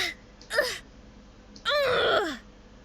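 Female pained vocal effects for hand-to-hand combat game characters: two short breathy cries of hurt, the second longer and wavering like a moan, close and fairly loud with quiet between them.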